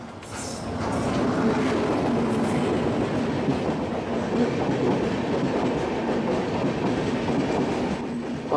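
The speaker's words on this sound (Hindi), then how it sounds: "5 मिनट भी नहीं हुआ है और सेंट्रल रेलवे की राजधानी हमें ओवरटेक कर रही है।" A Central Railway Rajdhani Express overtaking the Grand Trunk Express between Delhi and Mathura, heard as a loud, close, continuous rumble of passing coaches with rhythmic wheel clatter, no talking.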